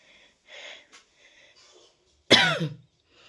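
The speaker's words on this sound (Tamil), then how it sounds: "இப்போ எதுக்கு எனக்கு இந்த இருமல்னால்" A single harsh, loud cough bursts out close by, following a few faint, soft murmurs.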